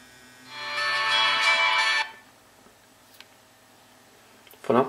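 An Android phone placing a call over WiFi through the Cherry app plays a loud tonal ring for about a second and a half, then a few faint clicks and a brief chirp near the end.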